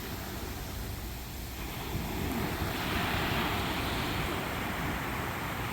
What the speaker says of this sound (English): Maybe even make it until the sunset and watch Daniel play in the waves.